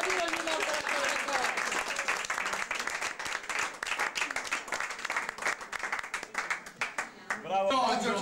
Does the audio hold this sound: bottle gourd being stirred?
no